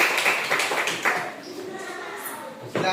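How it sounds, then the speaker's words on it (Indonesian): A classroom of students claps for a presenting group, a burst of scattered hand claps in the first second or so that thins out, with voices talking over and after it. "Berikan tepuk tangan untuk kelompok 2."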